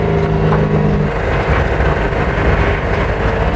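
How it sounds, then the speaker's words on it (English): A compressed-air car running steadily and close by, a continuous mechanical drone with a brief tonal hum at the start, and no voices. "It's a car that runs on compressed air"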